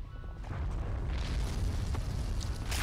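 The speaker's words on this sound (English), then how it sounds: "He is trying to shoot my PAC-38 with his mortar" Mortar fire bursts and rumbles around a PaK 38 anti-tank gun in a Blitzkrieg mod strategy game, dense loud booming explosions overlapping without pause.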